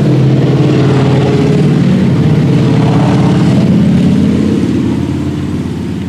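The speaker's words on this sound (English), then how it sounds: "Look at the motorcycles." Motorcycles on a road pass by, their steady engine rumble loud and close, then easing slightly as they move away near the end.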